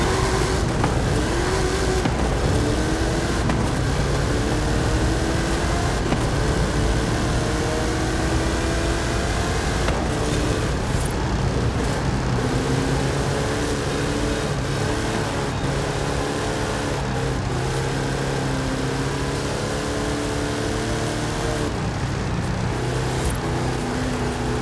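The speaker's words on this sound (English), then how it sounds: "How about you and I test them in a drag race?" Hot Wheels cars drag racing in Forza Horizon 5 roar with loud, continuous engine noise, revving and shifting pitch as the cars speed along with no break.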